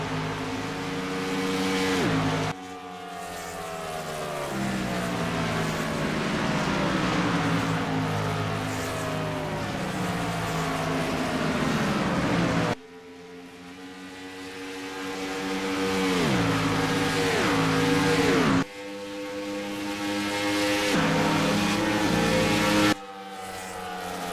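Race cars roaring past on a Michigan oval during a Saturday night short-track race, engines loud and close, sweeping in long rising and falling passes with steady high-revving drone between them.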